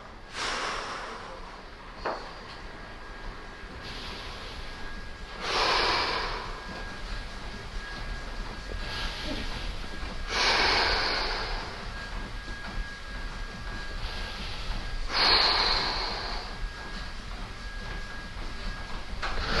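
During a stretching routine, deep breaths are drawn in through the nose in several slow, loud rushes spaced a few seconds apart, close to the microphone.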